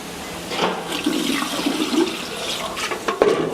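Acetone poured out of a spray gun being cleaned in a wood-finishing shop: a close, steady splashing pour of liquid lasting a few seconds, alone without talk.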